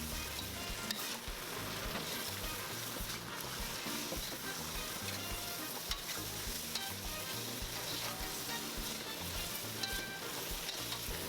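Shrimp tossed and stir-fried in a wok for ma la xiang guo with boiled ingredients, a dense, steady sizzle and frying hiss running unbroken, with faint clinks of tossing throughout.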